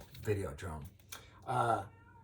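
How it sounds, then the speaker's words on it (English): A house cat meows indoors, giving two quick calls and then a longer drawn-out meow, fairly close and clear. "You can hear my cat."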